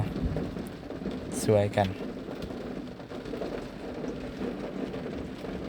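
Steady rain falls under dark stormy skies at a building site, a continuous wash of noise beneath someone talking, with a brief bird call partway through.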